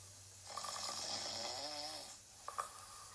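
A voice imitates a bear snoring in a story reading, giving one long, drawn-out rasping snore followed by a short snort.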